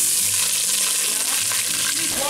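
Chopped onions dropped into oil heated for about three minutes, a steady loud frying sizzle that runs through the whole stretch with faint stirring clatter near the close.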